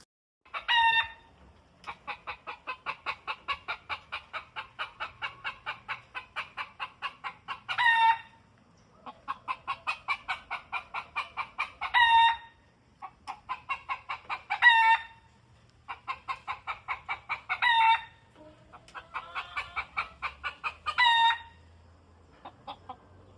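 Rooster crowing repeatedly on a chicken farm, several long loud crows in a row with short gaps and occasional clucks, close by and with no talk over it.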